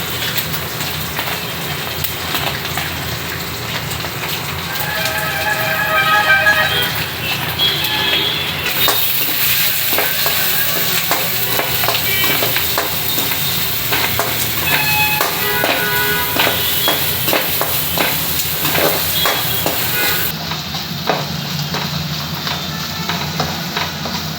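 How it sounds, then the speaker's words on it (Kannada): Curry leaves, onion and green chillies fry in a pan for sabakki kichidi, a close crackling sizzle broken by repeated spatula taps and stirring scrapes. "ಕರಿಬೇವು ಹಾಕ್ತಾ ಇದ್ದೀನಿ. ಆನಿಯನ್, ಮೆಣಸಿನ್ಕಾಯಿ ಹಾಕ್ತಾ ಇದ್ದೀನಿ."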